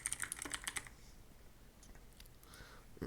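A quick, light burst of keystrokes on a computer keyboard, about ten close clicks in the first second, then a few scattered faint taps, quiet and near.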